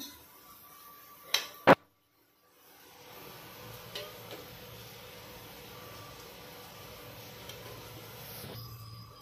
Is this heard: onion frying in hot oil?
yes